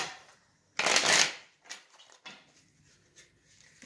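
Tarot cards shuffled hand over hand, beginning with a loud close riffle of about a second, then several softer, shorter flicks and slides of the deck in a quiet room.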